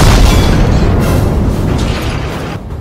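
A cartoon explosion blows apart a KV-44S tank with a loud, sustained booming roar that fills the whole stretch and slowly fades toward the end, with no voices over it.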